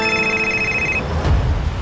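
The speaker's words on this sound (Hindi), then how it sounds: "इसी वक्त एक फोन आना था" A telephone rings with a bright electronic trill for about a second, then stops, leaving low rumbling room noise.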